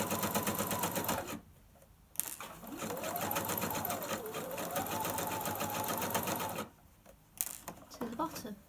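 A sewing machine stitches a lapped zip over pins in fast, even bursts of rattling, stopping for a pause midway before starting again briefly.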